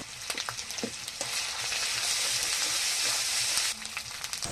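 Chopped onion, sliced green chilies, ginger-garlic paste and dried chili paste frying in a pan for a mankachu and fish dish: a loud, steady close sizzle with a few stirring knocks near the start, and no talking.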